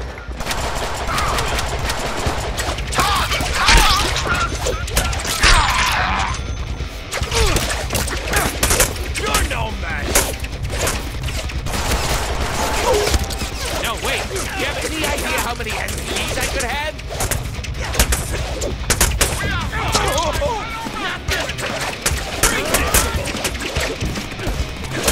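Deadpool video game combat rattles with dense bursts of gunfire and machine-gun fusillades, punctuated by crashes and smashes, while a player talks over the loud, busy action throughout.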